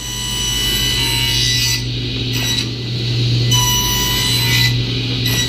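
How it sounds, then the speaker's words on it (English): A hand saw cuts open mortices and tenons in wood, giving close, steady back-and-forth rasping strokes over a constant low hum. "we're going to cut two open mortices on the top and two Tennons on the bottom"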